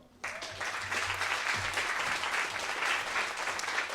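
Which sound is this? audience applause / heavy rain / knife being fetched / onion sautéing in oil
audience applause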